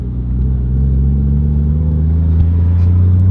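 A Toyota Supra's engine rumbles steadily from inside the car while driving, a loud, close, low drone holding an even pitch with a slight rise near the end.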